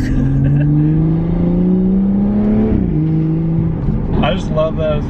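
A BMW F30 sedan accelerates hard, its engine note climbing steadily before an upshift drops the pitch with a quick exhaust blurp, then revs rise again with crackling pops at the end, loud and close.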